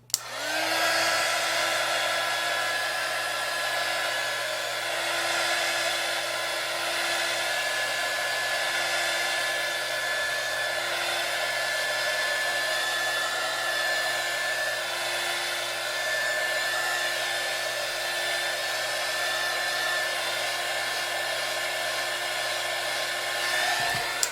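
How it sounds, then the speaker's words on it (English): A hair dryer runs continuously to dry a painted vase artwork, a steady close whirring hiss with a constant motor whine from start to finish, no talk. "I'm going to edit out the sound of the dryer in the video"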